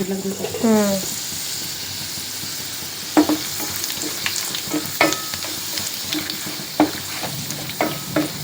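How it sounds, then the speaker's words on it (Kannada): Papad frying in hot oil at a home ancestral-ritual meal in north Karnataka, a steady close sizzle punctuated by sharp clatters of a utensil against the pan, with a voice briefly heard at the start. "ಇವಾಗ ಇಲ್ಲಿ ಒಂದು ಸ್ವಲ್ಪ ಪಪ್ಪಡ್ ಫ್ರೈ ಮಾಡ್ಕೊಳತ್ತಾರ"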